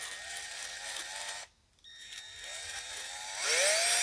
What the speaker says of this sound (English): This brush should help.